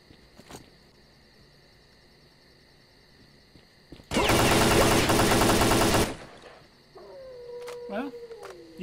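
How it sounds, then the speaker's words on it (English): Gunfire in the Zone video game breaks out as a loud, dense two-second burst of rapid automatic shots, with fainter isolated shots and in-game noises before and after. "Whoa, who's shooting at me now?"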